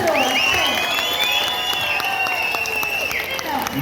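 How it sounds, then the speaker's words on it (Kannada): Audience at a Ganesh festival comedy show in Tumakur applauding, a loud continuous wash of clapping from a large crowd, with a voice speaking over it at times. "ಚಪ್ಪಾಳೆ ಹೊಡಿಬೇಕು."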